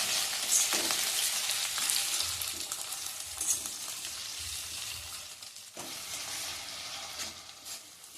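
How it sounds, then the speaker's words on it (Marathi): Chopped tomatoes sauté over a medium flame in a pan for a kofta curry gravy, giving a steady, close sizzle and crackle with a few soft stirring scrapes throughout, no voices. "हे टोमॅटो छान गोळे होईपर्यंत मी हे परतून शिजवून घेणार आहे"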